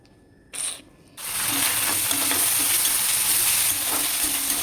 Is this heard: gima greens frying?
yes